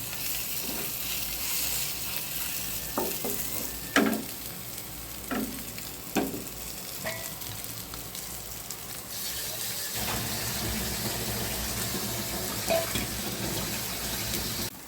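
Sliced spiny gourd (kankrol) coated in poppy seed paste, with a little water sprinkled in, sizzles steadily in hot oil. Occasional spatula scrapes and stirring clicks rise above a close, continuous frying hiss.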